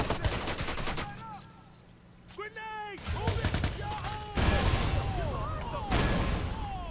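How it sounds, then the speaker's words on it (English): Grenade and gunfire in the PS4 game Watch Dogs: a burst of sharp explosive bangs and rattling shots during combat, loud and close amid game effects, with occasional voice sounds. "a grenade came my way"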